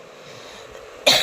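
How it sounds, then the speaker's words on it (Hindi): A single short, sharp cough from one person in a hot room at a family gathering, sudden and close after quiet background hum. "तो ये खांसी मेरी जान नहीं छोड़ रही है"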